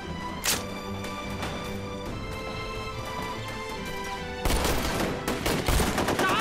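Gunfire in a war film battle scene: rapid automatic bursts crackle continuously, then a louder, denser volley of shots and impacts takes over near the end.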